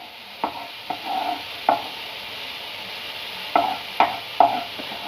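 Tomato and onion frying in a pan are stirred with a spatula in short scraping strokes, several spaced scrapes over a soft continuous sizzle, close and fairly clear with no talking.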